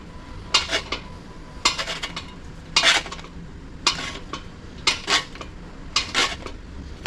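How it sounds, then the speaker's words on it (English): A foot-pedal metal shrinker working sheet metal for a '47 Pontiac pillar panel, sharp metallic crunches arriving in irregular clusters of two or three quick strikes, moderately close over a quiet shop background. "I'm just working the foot pedal here, shrinking the metal up around this."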